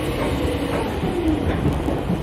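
A loud, steady rumble of a 2008-era private railway train with an IGBT inverter motor, a dense roar of wheels and motor noise filling the whole stretch, no voices.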